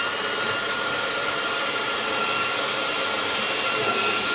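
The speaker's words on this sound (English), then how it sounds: "I'm going to drill my hole" A power drill runs continuously, boring a hole while driving screws, with a steady, loud, broadband whine that holds from start to finish.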